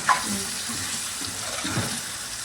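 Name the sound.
water being poured into pan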